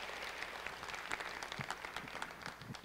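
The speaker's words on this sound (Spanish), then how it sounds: "Les pido un aplauso para que iniciemos nuestro panel." Panel event audience applauding, a quiet, somewhat distant burst of clapping that continues evenly for a few seconds.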